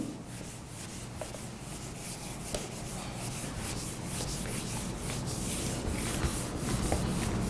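A board being erased in a classroom: steady, continuous rubbing and brushing from start to finish at an even level, close by, with no talking.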